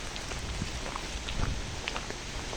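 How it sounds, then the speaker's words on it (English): Light rain begins falling beside a canal, a steady soft hiss with scattered faint drops throughout, no voices. "Down here, the rain's starting again"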